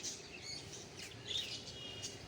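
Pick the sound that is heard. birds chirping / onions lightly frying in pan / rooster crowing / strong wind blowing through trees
birds chirping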